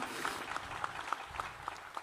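A ceremonial crowd at a Kenya Defence Forces Day event at Embakasi Garrison applauds departing National Music Festival champions with a brief, moderately loud run of rhythmic clapping lasting about two seconds.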